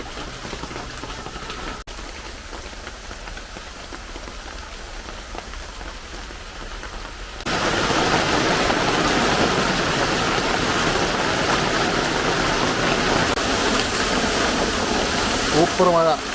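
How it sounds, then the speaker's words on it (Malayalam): Heavy rain pours down steadily, jumping from a quieter hiss to a loud, dense roar partway through that keeps going to the end. "അയ്യോ ശരിക്കും മഴയാണല്ലോ"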